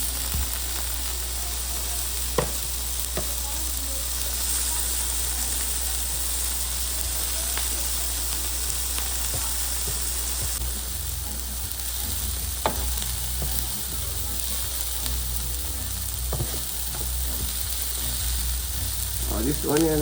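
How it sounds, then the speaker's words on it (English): Turkey burger patties fry in a pan beside onion and garlic, giving a continuous close sizzle. Occasional scrapes and clicks come as the patties are flipped with a spatula, and there is no speech. "You want to flip the burger a couple of times so it cook evenly."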